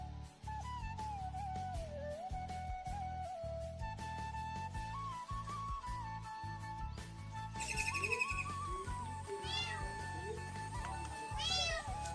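A house cat meows repeatedly at home, drawn-out calls rising and falling, with louder, higher cries near the end over a constant tonal background hum.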